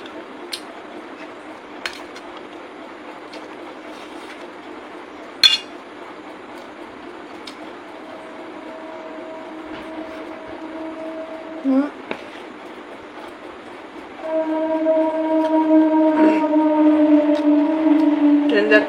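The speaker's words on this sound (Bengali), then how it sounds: "ট্রেন যাচ্ছে।" A passing train sounds in the distance during a meal, with sustained horn-like tones drifting in partway through. A louder, steadier rumble swells in the final few seconds, and occasional clinks of dishes are heard over it.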